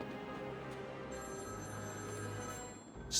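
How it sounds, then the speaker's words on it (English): Telephone ringing inside the Batman: Arkham City video game, a steady electronic ring sustained over a low ambient game hum with no talk. "The phone is ringing."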